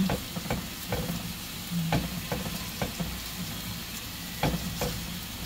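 Chicken pieces frying without oil in a pan, a soft continuous sizzle broken by several clattering utensil stirs and scrapes, close and fairly quiet.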